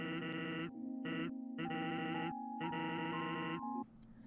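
A goat bleats in a JRPG video game, in several loud, nasal electronic calls broken by short silences, with sustained game tones running beneath them before a quieter tail.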